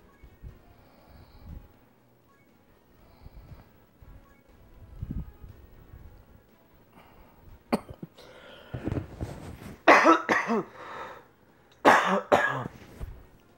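A person coughs a few times, harsh throat-clearing bursts growing louder toward the end after a quieter stretch of faint rustling.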